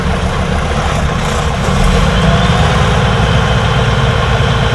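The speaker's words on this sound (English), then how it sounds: "During the platform operations, the engine is running at idling." A Titan catering truck's engine idles steadily during platform operations, a loud continuous low rumble that holds level throughout, with no voices.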